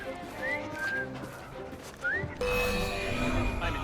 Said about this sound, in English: I've just learned to whistle.